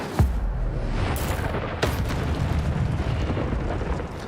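A fiery Incendio spell explosion in Hogwarts Legacy bursts with a sharp boom, then a continuous roaring rumble follows, broken by a couple more sharp impacts.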